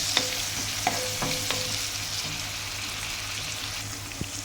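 Onions cooking down in a pan for a tomato and ivy gourd curry, a steady soft sizzle with a few light clicks of a spoon stirring, no voices.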